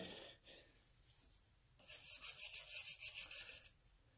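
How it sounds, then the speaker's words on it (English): A small, not very coarse brush scrubbing old grease off a surface grinder part, a soft rhythmic run of close bristle strokes after a quiet start. "Like this small brush, not real coarse. I'm just basically getting the old grease off of it,"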